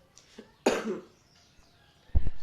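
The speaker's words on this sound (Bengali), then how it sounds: "কাশি আর পিছন ছাড়ছে না আমার" A person coughs a few times in short, close bursts indoors, with brief quiet gaps between them and a final harsher cough at the end.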